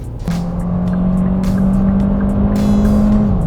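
A Hyundai Grandeur hybrid car accelerates with a steady rising engine and motor drone, heard loudly from inside the cabin over road and wind noise, without talk.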